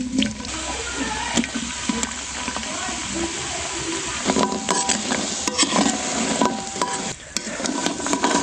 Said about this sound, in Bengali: এবার আমি গরম তেলে ভেজে নেব।